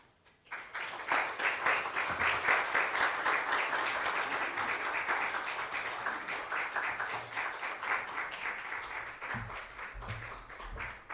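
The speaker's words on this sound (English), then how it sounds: "could we have a round of applause for our director and writer, Gretchen Ike?" A theatre audience claps steadily for several seconds, a dense, sustained applause that slowly tapers off toward the end.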